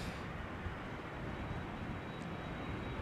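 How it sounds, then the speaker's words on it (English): A Boeing 767 with winglets passes at London Heathrow, its engines producing a steady, loud broadband roar that holds constant for a few seconds with no voices over it. "this is a 767"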